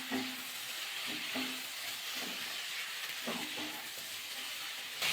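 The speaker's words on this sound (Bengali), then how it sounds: "আবার একটু নাড়াচাড়া করে নেব।" Vegetables and spices sizzle in a pan with a steady hiss while a spoon stirs them in repeated scraping strokes. The dish is a Bengali pui leaf and bean curry with potato and kohlrabi.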